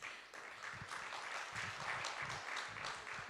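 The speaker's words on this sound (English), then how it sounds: "a loud round of applause is called for" Faint, distant applause from an event audience, a steady patter of many hands clapping without any voices over it.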